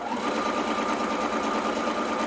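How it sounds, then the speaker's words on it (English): A sewing machine stitches fabric cut on the bias, a fast, even mechanical whirr running continuously and close up, with no talking. "Just be careful not to pull a fabric, because we are sewing on the bias now."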